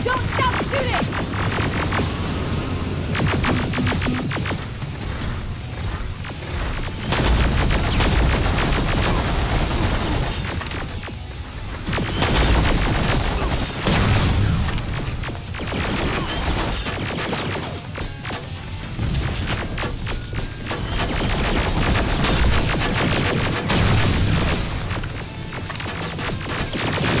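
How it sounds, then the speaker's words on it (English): Long stretch of battle noise in Terminator: Resistance, with gunfire bursts, crashes and explosions rising and falling in dense waves, and occasional shouted voices mixed in. "Don't stop shooting!"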